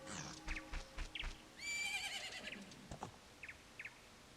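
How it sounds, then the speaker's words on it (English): A horse in a Zelda video game whinnies loudly in a long, wavering neigh, with a few hoof clops and short snorts around it, no talking. "Will you shut up, horse?"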